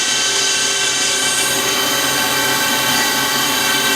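A 1998 Cincinnati Arrow 1000 CNC vertical machining center runs with a loud, steady high-pitched whine as its spindle spins up toward 2,000 RPM, continuous and close with no talk.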